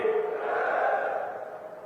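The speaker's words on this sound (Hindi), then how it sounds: "एक जोरदार जयकारे के साथ" A large crowd at a political rally roars a loud, sustained cheer in answer to a chanted call, echoing in a big space and slowly fading over about two seconds.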